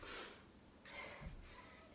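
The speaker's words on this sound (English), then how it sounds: "There you go, sniffing." A person sniffs during a home workout, with a few short, breathy nasal bursts close up and no talking over them.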